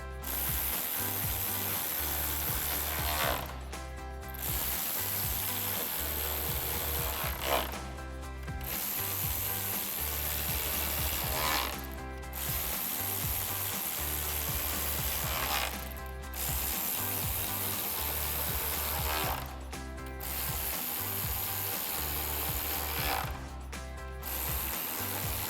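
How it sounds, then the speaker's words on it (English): A 10mm socket ratchet tightens headlight bolts on a 2017-2019 Ford F-250, with steady close clicking in long runs separated by brief pauses, and no talking. "Then we can take our 10mm socket and tighten all these down."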